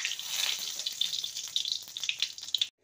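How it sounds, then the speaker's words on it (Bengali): Panch phoron spices crackling and sizzling in hot mustard oil, a continuous bright hiss with small pops, close and moderately quiet, cutting off abruptly near the end. "ফোড়নটাকে কয়েক সেকেন্ড ভেজে নেব"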